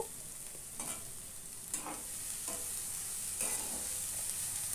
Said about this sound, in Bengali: এবার ভাজি করব, বা ভালোভাবে নেড়ে নেব।